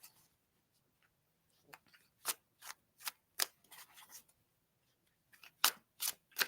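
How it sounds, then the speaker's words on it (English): Tarot cards are hand shuffled in a quiet room, giving a series of soft, crisp riffles and slaps that come in short bursts separated by pauses. "So I have to hand shuffle a lot and get those things moving really well."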